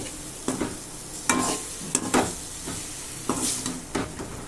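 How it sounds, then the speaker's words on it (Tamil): A spatula stirs capsicum gravy masala in a pan, giving a soft steady sizzle broken by several separate scraping strokes at an uneven rhythm, close and fairly quiet, with no speech. "போட்டுட்டு நல்லா கிண்டி விட்டுக்கோங்க"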